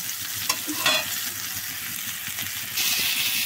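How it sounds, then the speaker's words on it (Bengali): Ginger, potato and capsicum fry in hot oil, a steady bright sizzle broken by a few scraping stirs of a spatula, close up with no talking. "এটা এরকমভাবেই এখানেই নাড়িয়ে দিয়ে, মানে আদাটাকে একটু তেলে দিয়ে ভাজা করা যাবে"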